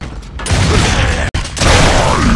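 Reloading a sniper rifle in a video game: loud, close mechanical clicks and metallic handling over a dense background of game noise, with one abrupt cut partway through.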